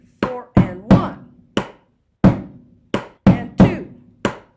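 Bucket drum struck in a syncopated beat: nine sharp, ringing hits with low booming body and bright rim, irregularly spaced in a split-count rhythm, close and loud with no voices.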